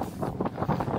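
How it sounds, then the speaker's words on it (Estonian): Strong gusts buffet the microphone at an outdoor disc golf course, producing a loud, uneven roar that swells and dips over a second without any talking. "Siin on päriselt tuuline. Nagu väga tuuline."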